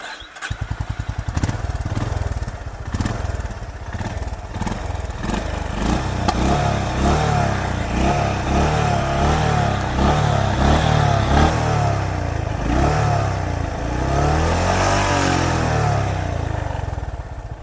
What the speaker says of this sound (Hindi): तो अब सुनते हैं CB350 RS की एग्जॉस्ट नोट।